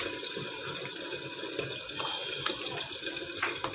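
Boiled hot water pours steadily into a pan while a pabda fish curry cooks, a continuous close splashing rush with no talking.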